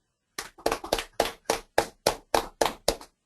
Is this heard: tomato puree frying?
no